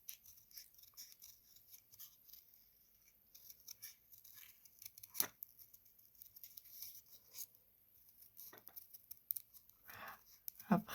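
Scissors snip through paper material for a junk journal, faint close-up cuts in an irregular series with brief quiet gaps, a louder snip near the end, and a voice speaking softly at times.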